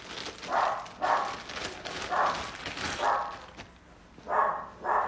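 A dog barks repeatedly at a distance, muffled bursts coming in irregular pairs over faint background noise.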